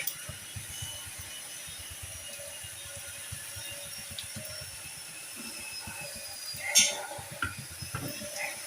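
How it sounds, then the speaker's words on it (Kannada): Faint, irregular mechanical clanking and ratcheting from construction work in the distance, with one sharper metallic clatter, over a steady hiss. "ಇದು ಕನ್ಸ್ಟ್ರಕ್ಷನ್ ಆಗ್ತಾ ಇದೆ, ಇದನ್ನು ತುಂಬ ಡಿಸ್ಟರ್ಬೆನ್ಸ್ ಇದೆ."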